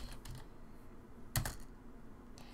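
Typing on a computer keyboard, a few quiet scattered keystrokes with one louder clack near the middle, faint and close over a low background hum.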